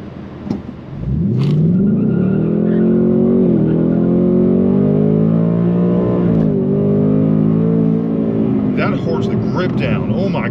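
2024 Ford Mustang RTR Spec 2 accelerating hard, its engine note rising loudly and sweeping upward through gear changes in a close, sustained roar, with brief voices near the start and end.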